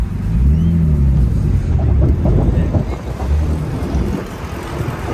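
A Nissan roadster with a manual transmission climbs a hill with a loud engine drone that rises and falls close by, thick with heavy wind rumble, and no voices heard.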